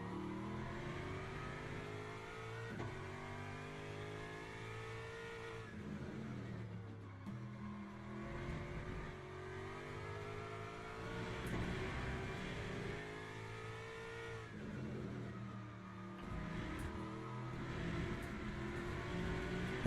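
A race car engine in a racing video game running warm-up laps on cold tyres, revving up and down through repeated gear shifts, steady and continuous, fairly quiet throughout.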